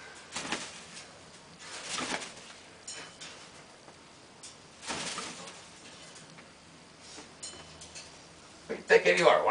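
A cockatoo playing with a hockey sock gives scattered raspy squawks and chatters, fairly close, with a sharper burst of calls at the end amid light room noise.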